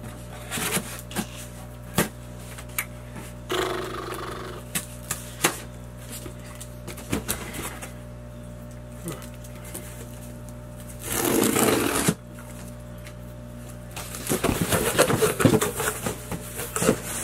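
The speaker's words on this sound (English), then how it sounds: "All right, so I have my scissors. Gonna cut into this." Scattered sharp clicks and taps, then several bursts of rough scraping and slicing as scissors cut into a cardboard shoe box, loud and close, separated by quiet pauses.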